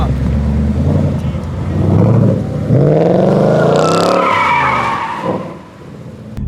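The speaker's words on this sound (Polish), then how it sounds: "dałem tyle gazu, tyle gazu" A car accelerating hard with its engine revving up and climbing in pitch, loud and close, with skidding tyre noise mixed in, while someone talks excitedly over it.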